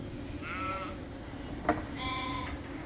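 A ewe lamb in a sheep flock gives two short, clear bleats about a second and a half apart, fairly close, with a small knock between them.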